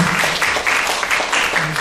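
Listeners at an academic Buddhist conference give a speaker a round of applause, a brief burst of many hands clapping close and fairly loud, with a faint voice murmuring underneath.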